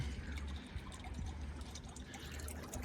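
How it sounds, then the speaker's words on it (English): A sponge filter squeezed out in a small live bait tank gives a continuous close splashing and trickling of water, steady for the few seconds with no talking. "the best way to clean it is grab the sponge, go down there, give it a wring out"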